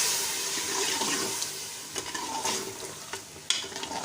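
Meat and cauliflower frying in a pan after a boiled garlic, tomato, green chilli and onion paste is added, giving a continuous wet sizzle with scattered stirring scrapes and clacks, close and without talk.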